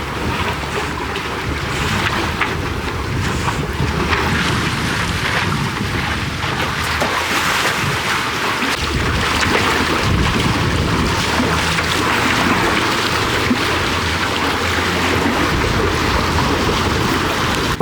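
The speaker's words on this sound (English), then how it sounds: "we're pretty much going dead downwind, and we're doing about 4 knots with just the head sail up" A sailboat running dead downwind at about four knots under just the headsail, with a steady wash of waves along the hull and constant wind buffeting the microphone, no talk.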